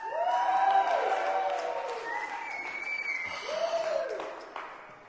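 Church congregation cheering and clapping, a swell of applause and whoops that fades, then a second burst near four seconds before dying away.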